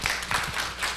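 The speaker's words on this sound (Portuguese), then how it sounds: "Uma salva de palmas para a doutora Márcia Consulim" Audience applause at a lecture swells briefly as a speaker is welcomed, a short burst of dense, moderately loud clapping.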